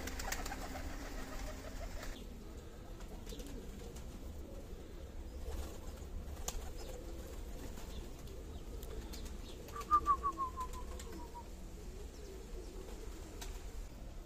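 Nut-marbled Dagestan tumbler pigeons at a breeding loft in Khasavyurt, with low steady cooing under faint outdoor ambience and a brief burst of wing flaps near the end.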